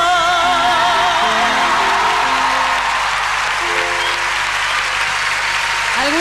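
Large concert audience at Luna Park applauding loudly and continuously for a guest, with sustained musical tones and a crowd murmur underneath the dense clapping.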